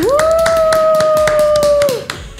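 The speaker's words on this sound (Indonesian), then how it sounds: "Tepuk tangan dulu dong buat bintang tamu kita pada hari ini." A burst of clapping hands welcoming guests on a talk show, sharp and rhythmic, with a long steady whistling tone running through it before it fades out.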